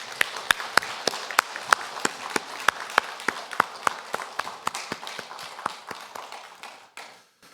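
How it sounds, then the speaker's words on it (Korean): A church congregation claps during a Sunday worship service, giving a steady rhythmic round of sharp hand claps with a lot of room echo, then thinning out and stopping near the end. "이 시간 오직 하나님께 영광의 박수를 올려드리겠습니다"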